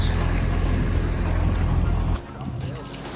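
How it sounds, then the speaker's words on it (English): An outboard motor drives a small dinghy across the water on the way back to a catamaran, a steady close engine drone with wind and splashing that drops off sharply near the end. "we're on our dinghy ride, heading back to the catamaran"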